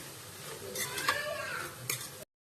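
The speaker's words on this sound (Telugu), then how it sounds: "ఇలా మొత్తం కూడా మిక్స్ అయ్యేటట్టు ఈ మిశ్రమాన్ని అంతా కూడా మనం ఇలా మిక్స్ చేసుకోవాలి" Spoon scraping and stirring through a vegetable rice masala mixture in a pan, with a few light clinks against the metal over soft sizzling, quiet and close, ending abruptly.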